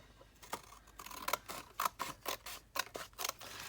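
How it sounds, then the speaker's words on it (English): Scissors snip through thick, roughed-up paper being cut into a journal pocket, a series of sharp, close crisp cuts in an irregular rhythm, quiet overall with no speech. "Good enough I can see where to finish it up with the scissors."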